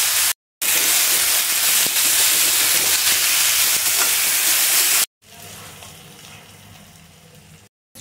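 Oil in a pan for frying bitter gourd gives a loud, steady sizzle and hiss close by. It cuts out briefly, then goes on at a lower, softer level.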